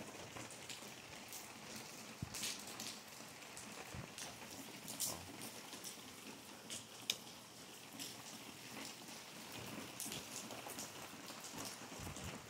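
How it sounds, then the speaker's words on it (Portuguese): Rain falls at night in a constant soft patter on surfaces, with scattered louder drops tapping now and then, faint and steady throughout. "escutei o barulho da chuva"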